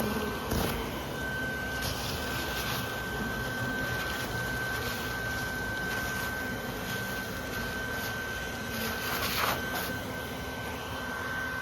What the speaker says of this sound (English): Just gonna vacuum in the blind right now.